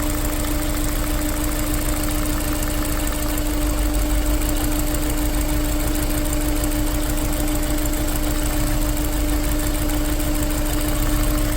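A Honda S2000 engine idles steadily with one spark plug wire unplugged, running on three cylinders with a constant loud hum and a persistent buzzing tone throughout.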